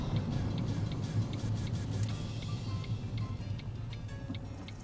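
A Ford ST car drives on the road, its steady engine and road noise droning from inside the cabin at a moderate level with faint ticking.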